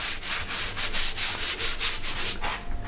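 Abrasive wax-based paste rubbed onto a spinning wooden live-edge bowl on a lathe, a steady close rasping sanding sound pulsing in quick even strokes with no voices.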